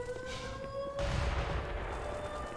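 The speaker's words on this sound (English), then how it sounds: "There's quite a lot of explosions going off, and there's a helicopter" Explosions boom in the background of the video game Black Mesa, with a helicopter droning along, a sharp tonal whine giving way at about one second to a loud rumbling blast that persists.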